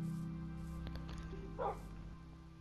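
A tamed dog in Minecraft gives a couple of short, soft yips and barks over a steady hum of game background sound, fairly close but not loud.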